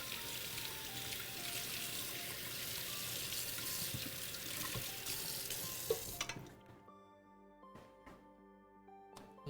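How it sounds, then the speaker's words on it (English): Tap water runs in a kitchen sink as something is rinsed out beneath it, a steady broad splashing hiss that stops after about six seconds and leaves a few faint clinks and knocks. "just gonna rinse that out so it doesn't get stuck in there"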